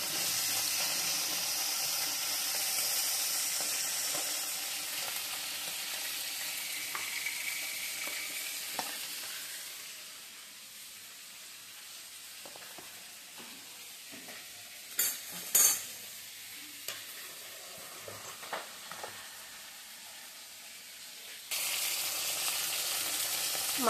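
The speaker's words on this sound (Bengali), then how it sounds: "এখন আমি মাছের মাথাটা ভেজে নিচ্ছি" A fish head sizzles in hot oil in a pan with a steady hiss. The sizzle fades partway through, giving way to occasional stirring clatter before the loud frying returns near the end.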